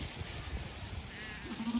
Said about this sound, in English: Here come the sheep